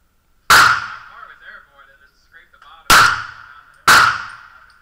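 Three loud, sharp Makarov pistol shots are fired at a target outdoors, the first alone and the last two about a second apart, each ringing briefly, with faint voices talking between them.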